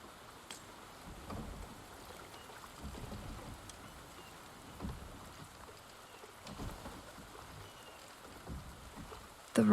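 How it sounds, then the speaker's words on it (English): Steady rain falls in the video game Wuthering Waves, a soft continuous patter with scattered heavier drops and faint low rumbles underneath, quiet and even throughout. "The rain is subsiding, and the sky will soon clear."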